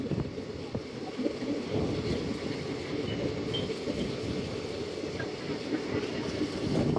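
A passenger train on the Yerraguntla line rumbles along its rails, heard from inside a carriage as a steady low clatter and hum with faint rhythmic knocks.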